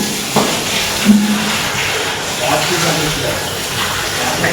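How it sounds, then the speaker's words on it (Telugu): Water from a hose pipe splashes steadily across a kitchen being washed down, a continuous mid-level gush and spatter under occasional faint voices. "ఒక పైప్ పెట్టి అయితే మొత్తం అయితే క్లీన్ చేసేస్తున్నారు ఫ్రెండ్స్ వీళ్ళు"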